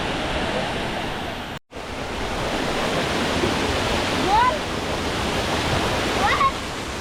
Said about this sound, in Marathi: बघा हा धबधबा आहे ना आमच्या शेताच्या बाजूला आहे